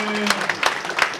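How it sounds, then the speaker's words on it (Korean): A church presbytery assembly audience gives a short burst of clapping, with a voice speaking over the applause. "박수 치는 거 확실하게 한번 칩시다."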